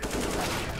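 Gunshots crack in a first-person shooter video game during a one-on-one duel, a short, loud, dense burst of fire heard up close.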